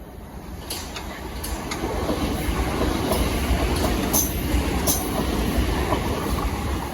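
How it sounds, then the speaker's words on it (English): A Southeastern class 375 Electrostar electric multiple unit passes at Wandsworth Road, a loud sustained rumble with rhythmic clicks of wheels over rail joints and brief high squeals, swelling as it nears and staying close throughout. "The next train to pass by will be a Southeastern 375."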